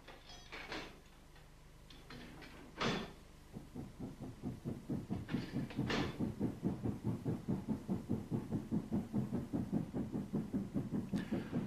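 An express train with banking engines passes close by a signal box, a steady rhythmic clatter of wheels over rail joints building and continuing after an earlier louder burst.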